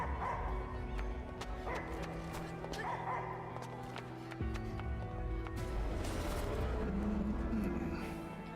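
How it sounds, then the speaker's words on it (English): A dog in the video game Slitterhead barks repeatedly with yips and whimpers over a droning in-game ambience and music, the barks fairly close and loud. "Barking is quite loud."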